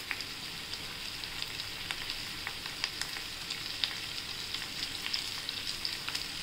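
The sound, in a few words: sautéing food in a pan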